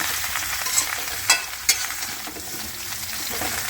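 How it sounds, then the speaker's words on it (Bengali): Mango pickle with turmeric powder is stirred and mixed in a pan, a continuous close sizzle broken by a few sharp scraping clinks of the utensil, with no voices. "দিয়ে ভালো করে নাড়াচাড়া দিয়ে মিশিয়ে নেবে পুরো মিশিয়ে নিচ্ছে আমার আচারটা"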